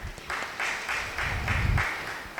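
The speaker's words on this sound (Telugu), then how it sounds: "మనందరం గట్టిగా క్లాప్స్ కొడదాం" An audience at a spiritual meditation gathering at a pyramid centre claps together, a fairly soft, even patter of many hands with a low rumble underneath, continuing throughout.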